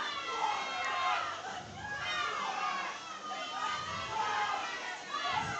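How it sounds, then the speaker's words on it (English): Crowd noise of supporters cheering and calling out at a high school powerlifting meet, a steady, dense mix of voices filling the room throughout. "I'm hearing a lot of support for Evan Cardoza on platform 3."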